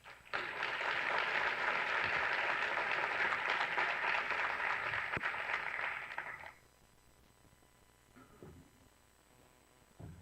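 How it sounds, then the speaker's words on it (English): A conference audience applauds at an L.A. gang conference as the first speaker is introduced, a dense, steady roar of clapping for about six seconds that then cuts off to near quiet. "give me a round of applause for our first speaker, Mr. Massengale"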